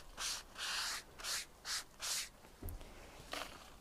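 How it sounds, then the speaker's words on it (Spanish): A cloth wipes down a kitchen prep table in about five quick rhythmic rubbing strokes, then a small knock and one last swipe, close and fairly quiet with no talking. "Vamos a limpiar un poquito la mesa de elaboración"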